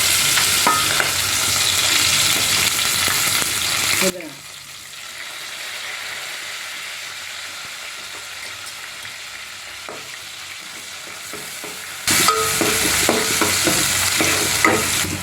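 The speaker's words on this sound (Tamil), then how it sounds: "வெங்காயத்தை போடுறேன் வெங்காயம் பச்சை மிளகாய்" Onion and green chili fry and sizzle in a pan, a loud steady hiss that drops sharply quieter in the middle and then surges back loud with stirring scrapes near the end.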